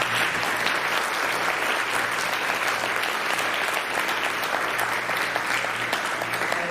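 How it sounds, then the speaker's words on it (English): An audience at a community meeting on Medicaid applauds with steady, even clapping that holds at a constant level throughout, with no voices over it. "let's give her a round of applause."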